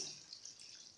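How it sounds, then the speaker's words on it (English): Water runs steadily into a cooking pot of chicken for stew, a soft continuous splashing trickle at low volume with no talking. "I'll add some water, just a little bit"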